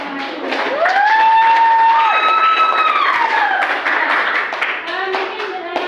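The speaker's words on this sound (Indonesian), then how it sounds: "Silakan kalian semua kasih tepuk tangan buat kelompok yang maju" Classroom students clap together for a presenting group, a fairly close burst of hand claps mixed with a drawn-out vocal cheer and excited voices.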